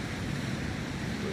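Sea waves at the shore in Monterey, California, a steady broad wash of surf with some wind noise, continuous and fairly loud without talk.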